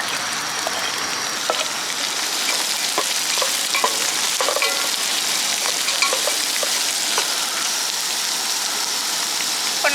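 Loud, continuous sizzling of white onion, green chili and capsicum frying in a pan outdoors in the Bahrain desert, with light scattered ticks and stirring sounds throughout; no talking.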